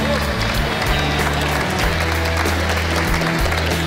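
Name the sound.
slow clap applause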